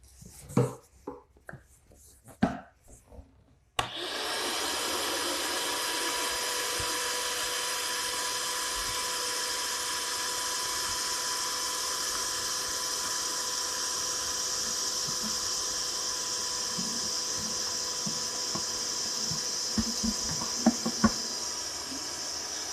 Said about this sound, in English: what the shop vac looks like after sucking up a few gallons of sawdust